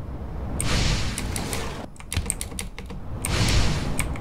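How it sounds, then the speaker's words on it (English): In the Roblox game District Cascade, a wall-climbing sound effect plays as a low, rough sliding scrape in repeated bursts, with light clicky taps in the pause between them. "It sounds a little like sliding, but like lower pitch, I guess."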